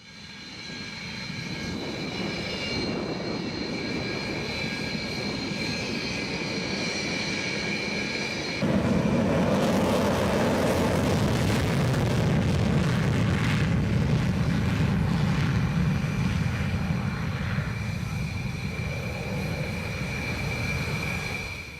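Rafale Marine fighter jet engines roar as a loud, continuous broadband rumble that steps up sharply in intensity partway through and holds, with no talk.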